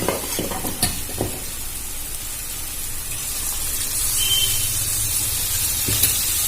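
Yogurt sizzles and fries in a pan with cooked ingredients for a pointed gourd curry while a spoon stirs it. A steady close hiss runs throughout, with a few louder scraping strokes. No one speaks.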